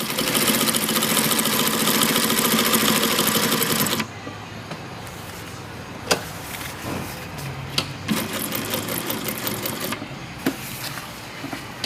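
A sewing machine runs a three-step zigzag stitch, first a steady loud whirring hum for several seconds, then a quieter stretch with intermittent clicks and short bursts of stitching, with no talking.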